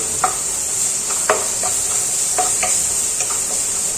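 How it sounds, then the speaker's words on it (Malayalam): Onion, carrot and green chilli sautéed in a pan, a bright continuous sizzle with a few sharp spatula scrapes and taps spaced irregularly, close and loud. "ഇനി ഇത് നല്ലപോലെ ഒന്ന് വഴറ്റിയെടുക്കണം"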